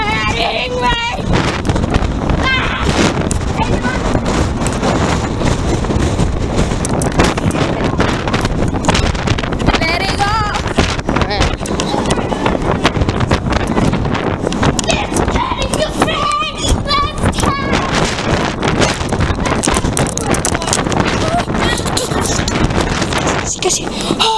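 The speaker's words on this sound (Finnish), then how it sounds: "täällä ulkokannella täällä on mahtava tuuli" Strong, continuous wind buffets the microphone on a ship's open outer deck, a loud roaring rumble that persists throughout with occasional bursts of voices partly buried beneath it.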